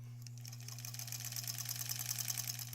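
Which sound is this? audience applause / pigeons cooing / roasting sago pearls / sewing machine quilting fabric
sewing machine quilting fabric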